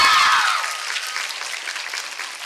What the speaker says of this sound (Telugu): ఒకసారి గట్టిగా క్లాప్స్ కొట్రా.